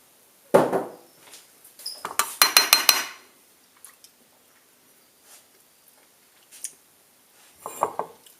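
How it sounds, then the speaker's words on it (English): A spoon scooping raspberries and blackberries from a container for banana blueberry pancakes gives close clinks and scrapes, with a busy cluster of taps followed by scattered faint knocks and a final short burst. "I'm just going to get my spoon in there"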